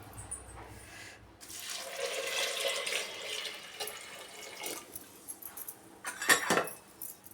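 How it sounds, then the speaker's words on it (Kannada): Water runs and splashes steadily into a pot for sprouts sambar, a broad hiss lasting several seconds, then a few louder clinks and splashes near the end; no talking. "ಎಷ್ಟು ಬೇಕೋ ಅಷ್ಟು ನೀರು ಸೇರಿಸ್ಕೊಳ್ಳೋಣ"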